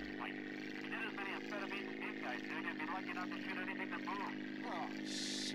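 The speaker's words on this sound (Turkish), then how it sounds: "uçağı sürmekle meşgulüm" Steady, droning engine hum of an airplane flying in the video game GTA San Andreas, a constant low tone running underneath continuous talking throughout.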